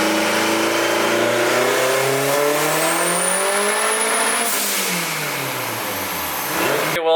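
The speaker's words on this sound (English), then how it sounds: "let's get this one on the dyno right now and make a few dyno pulls" A car engine on a dyno revs up hard through a long pull, its loud rising roar climbing steadily in pitch, then easing back down as the throttle closes.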